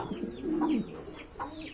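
A pair of pigeons for sale coos softly in a few low, throaty notes, close by, ending with a brief sharp knock.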